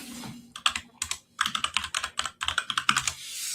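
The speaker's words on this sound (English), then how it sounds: "loud keyboard there" Loud, close computer keyboard typing in quick irregular bursts, keys clacking rapidly with brief pauses between runs.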